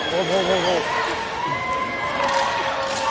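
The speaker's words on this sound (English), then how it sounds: "This crowd is going berserk on both sides." A crowd at a men's masters ball hockey gold medal game between USA and Canada roars in a dense, sustained wash of cheering, with a commentator talking over it.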